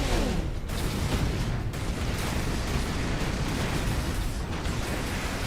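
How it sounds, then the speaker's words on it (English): Explosions rumble and boom nonstop in the Warhammer 40,000: Space Marine video game, a loud, dense wall of blasts and bursts with a few sharper hits and no talking. "where's all those explosions coming from that are hurting me?"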